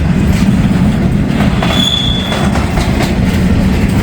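A train passes close by the tracks in a loud, continuous roar of wheels and cars, with steady rattling, a rumbling low end and a brief high squeal of wheels.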